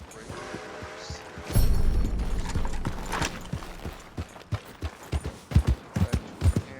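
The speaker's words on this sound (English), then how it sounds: "horse. Regular horse." Horse hooves clip-clop in Red Dead Redemption 2, starting with a thudding impact, then settling into an irregular run of sharp hoofbeats that grows into quicker, louder strikes near the end; no speech is heard.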